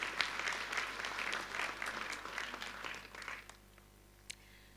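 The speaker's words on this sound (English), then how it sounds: "A big round of applause for the parents." Guests at a university graduation ceremony applaud the parents, a moderately distant, steady round of clapping that fades out after about three seconds, leaving near quiet with one stray clap.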